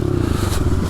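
A pit bike engine runs in first gear inside an abandoned house, a loud close chugging idle with rapid, uneven pulses and some clatter across a single second.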